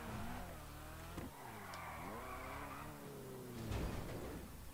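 A car skids under the handbrake in the GTA roleplay game, the tires squealing in long wavering sweeps while the engine revs and drops, at low volume with no voices.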